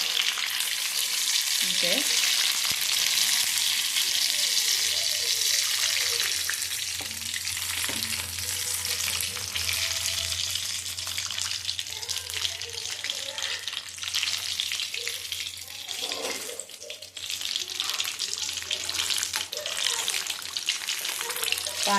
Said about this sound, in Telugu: ఇప్పుడే పాప మడతపెట్టి మిర్చిలు అయితే వేస్తున్నా